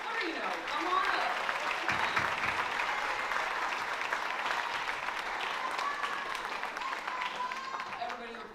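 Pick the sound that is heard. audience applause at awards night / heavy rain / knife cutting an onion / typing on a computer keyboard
audience applause at awards night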